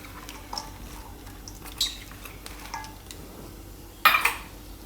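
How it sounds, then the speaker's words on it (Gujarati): Chopped cauliflower and green onion tossed into a pan make faint scattered clatters and soft knocks, ending in a sharper metallic clank near the close, with little else around. "હવે એમાં આપણે નાખી દઈશું આ ફ્લાવર, અને આ લીલી ડુંગળી"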